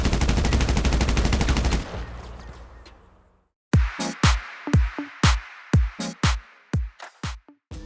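Special carbine rifle fire in a video game: a dense rapid burst of automatic shots that fades into a ringing tail, then after a short silence a string of sharp single shots at uneven intervals, loud and close.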